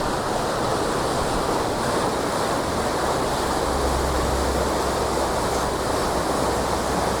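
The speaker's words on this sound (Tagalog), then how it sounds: "nakabukas na nga yung check gate so hindi na paapaw yung dumadaloy na tubig" Irrigation water rushes steadily through a lateral canal past an open check gate, a constant loud wash with wind buffeting the microphone and no talk.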